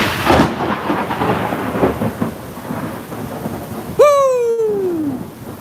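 Thunder and steady rain during a summer storm on a front porch in Tulsa, Oklahoma: a loud rolling rumble over constant rain hiss, then a sharp descending whistle-like tone near the end.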